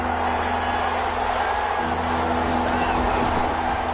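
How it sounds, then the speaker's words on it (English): A football stadium crowd at a Texans vs Raiders game makes a steady, dense roar that swells slightly partway through, with a voice talking over it. "Crowd getting in it a bit already."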